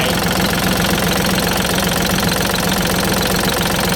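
A Kubota L3608 tractor's diesel engine idles steadily up close, with a loud, even knocking rumble that runs throughout without any talk.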